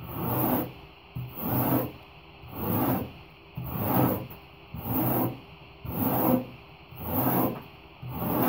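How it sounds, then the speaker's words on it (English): A coarse rasp files a custom skull-shaped hood cowl in about seven slow, even back-and-forth strokes, each a close, rough scraping rub separated by short pauses. "I'm going to rasp this. So I'm going to use the very aggressive edge"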